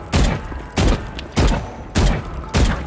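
Five evenly spaced single gunshots ring out in Valorant during counter-strafe shooting practice, each a loud, sharp crack with a short decay, about half a second apart.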